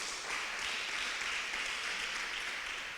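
A church congregation applauds during an evening worship service, a steady, dense wash of many hands clapping throughout, moderately loud and even, with no voices standing out.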